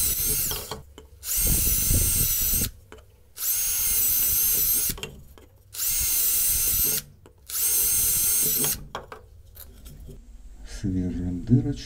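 Power drill boring a hole, running in four long steady whining bursts with short pauses between, loud and close, with a voice speaking in the gaps.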